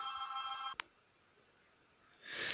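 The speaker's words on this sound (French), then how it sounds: "Désolé, c'était mon téléphone" An electronic phone ringtone plays a steady tone pattern, stops abruptly with a small click, then a brief burst of higher ringing follows after a pause.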